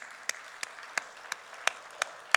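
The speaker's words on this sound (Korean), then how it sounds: "우리 박수로 크게 응원하겠습니다." A church congregation claps in a steady, even rhythm during a Sunday service, each beat a sharp crack over a soft wash of scattered applause.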